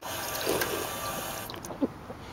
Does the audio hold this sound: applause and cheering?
no